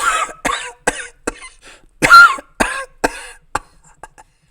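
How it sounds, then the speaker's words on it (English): A fit of coughing, about nine harsh, close bursts in an irregular rhythm, loud at first and trailing off fainter toward the end, with no other sound around them. "Suddenly, Psychus is seized by a fit of coughing"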